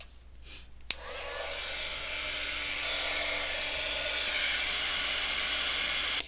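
A heat tool blows steadily while melting red embossing powder on gift tags, a loud continuous whirring hiss that starts with a click and holds nearly unchanged to the end.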